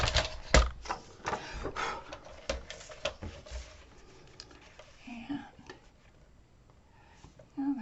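Card stock for a gatefold card is cut with a run of sharp clicks and snips, packed densely at first and then thinning out, followed by quieter rustling and handling.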